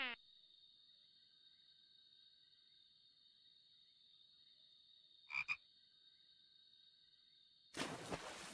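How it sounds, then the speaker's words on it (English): Frog croaking in a tonal, sustained call that runs through most of the stretch, with a brief double burst partway and a noisy rustle at the end; fairly faint and clear, no talk. "Frog."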